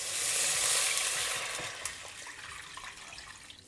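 Steady hiss of food sizzling in a hot pot, loud at first and then easing off, with a few faint clinks of stirring.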